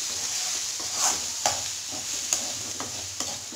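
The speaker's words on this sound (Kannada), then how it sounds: "ಅದಕ್ಕೋಸ್ಕರ ಇವಾಗಲೇ ಚೆನ್ನಾಗಿ ಸಾಲ್ಟ್ ಎಲ್ಲ ಹಾಕಿ ಮಿಕ್ಸ್ ಕೊಡೋಣ ಚೆನ್ನಾಗಿ" Salt is stirred into a brinjal curry cooking in a pan: a few distinct scraping strokes of the spoon sound over a soft, steady sizzle, and no one speaks.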